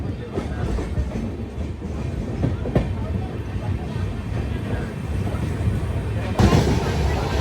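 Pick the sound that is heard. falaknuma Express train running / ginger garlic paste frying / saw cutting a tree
falaknuma Express train running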